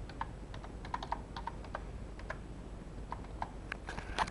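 Quiet, close taps on an iPod touch touchscreen keyboard, a dozen or so light irregular clicks scattered over a few seconds against a soft background hiss.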